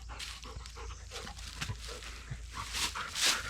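A dog at a Florida tent campsite pants and whimpers close by, soft whines and breathy huffs rising to louder bursts toward the end, with no talk.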